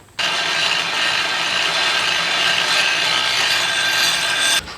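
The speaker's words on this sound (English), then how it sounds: "I'm going to start off using a cupstone, which is a big rock, on an angle grinder" A cupstone on an angle grinder grinds steel while a froe is forged, a loud, steady abrasive rasping hiss that starts abruptly, holds for about four and a half seconds, then cuts off.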